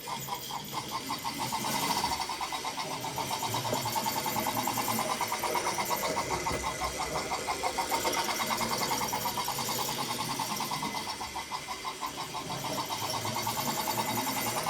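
A small motor hums and chatters steadily with a rapid rhythmic clatter, a model railway locomotive running along track on low voltage, continuous throughout.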